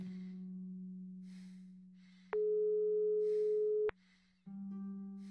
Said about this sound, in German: Nico ging nicht ans Telefon.